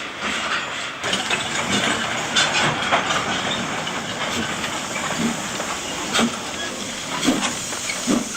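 A steam locomotive sits simmering on the railway at the Dahuichang limestone quarry in China. A steady, breathy hiss of escaping steam runs throughout, with faint soft knocks and clanks now and then and little or no voice.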